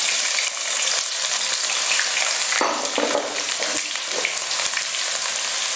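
Ginger is dropped into hot sesame oil after mustard seeds pop, for a village-style tuna pickle, producing a loud, continuous, crackling sizzle close up with a brief surge midway.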